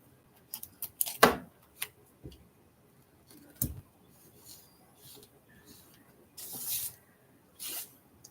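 Scissors snip away at material in short, sharp bursts, several quick cuts up close with quiet pauses between them and faint shuffling in the background.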